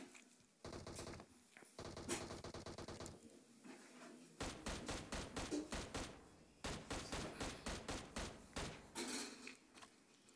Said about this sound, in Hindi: अभी यहाँ पर देखना पीछे से फायरिंग होगी